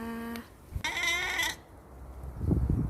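Black twin goat kids give a couple of high, wavering bleats close by, one short and one longer. Low rustling and handling noises follow.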